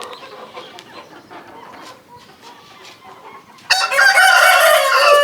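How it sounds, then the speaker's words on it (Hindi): A rooster crows loudly and close in the latter half, a strong sustained call bursting out after a few seconds of faint clucking and quiet farmyard sounds. "मैंने कहा ये एक बार बांग वगैरह दे।"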